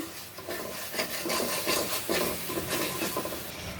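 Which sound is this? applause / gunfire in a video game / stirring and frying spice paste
stirring and frying spice paste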